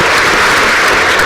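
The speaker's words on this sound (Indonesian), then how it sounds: "Kita tepuk tangan ya." Loud, dense audience applause in a television talk-show studio, a continuous burst of clapping that fills the whole short stretch.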